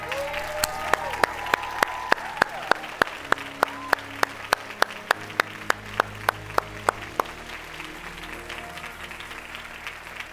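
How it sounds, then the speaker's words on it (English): At a 2019 graduation celebration, the audience stands to honour the class of 2019 with sharp, evenly spaced claps that beat out a steady rhythm for several seconds over a low sustained tone, then fade out. "can we rise and give the class of 2019 a very big applause?"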